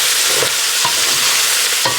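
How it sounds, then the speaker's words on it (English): Onions and bacon sizzle steadily in a frying pan, a loud continuous hiss broken by periodic scraping strokes as the mixture is stirred, with no talking. "So our onions are starting to cook down with our bacon."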